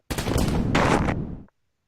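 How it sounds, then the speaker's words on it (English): A single gunshot sound effect within a sonification piece representing Napoleon's retreat from Moscow, a sharp, loud burst followed by a roughly one-and-a-half-second noisy rumbling tail that cuts off abruptly into silence. "There was a gunshot, a little bit different than the advancing line."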